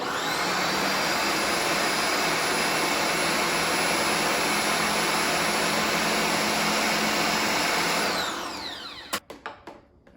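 Blender whirring through a coconut cream coquito drink, a loud continuous high motor roar for about eight seconds that winds down and stops with a few clunks, no talk.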